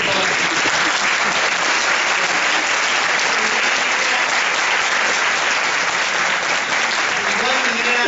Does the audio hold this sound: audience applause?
yes